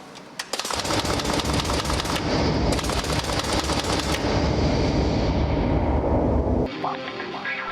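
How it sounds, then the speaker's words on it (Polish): Rapid, sustained automatic fire from an MK-19 grenade launcher, loud and close, a dense continuous burst of heavy shots lasting several seconds before stopping abruptly. "Co to za karabin? MK-19. No to zaczynamy. Czas na szybkie strzały."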